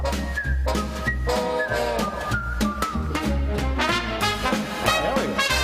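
A whistled rendition of the Andy Griffith Show theme tune carries the melody over a full instrumental backing, playing steadily and loudly throughout.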